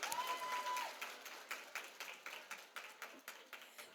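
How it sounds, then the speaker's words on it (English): Audience at a Chamber of Commerce women-in-business breakfast gives a short burst of applause, the clapping thinning into scattered individual claps that fade out over a few seconds, heard at a distance in a room. "Round of applause."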